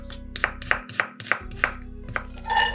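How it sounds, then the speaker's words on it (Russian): Close, crisp knife strokes dice an onion on a cutting board, six or seven fairly even chops followed by a softer scraping sound, with no voices. "Одну луковицу нарезаем кубиками."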